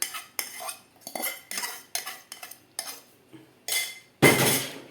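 A spoon stirring kishk in a metal pot, heard as a run of separate close scrapes and clinks against the pot with short pauses between, ending in one louder, longer scrape.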